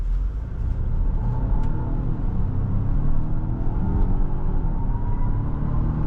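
A 2026 Volvo XC90 T8 plug-in hybrid pulls away hard, giving a steady low engine rumble and road roar from inside the cabin, fairly loud and continuous with no talk.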